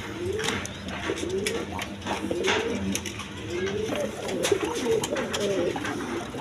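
A pair of Spanish gorgori border pigeons coo close by in a series of repeated throaty, rolling calls, with faint background noise and a trace of voices.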